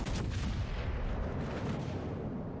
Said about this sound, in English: there's so many battleships shooting at me right now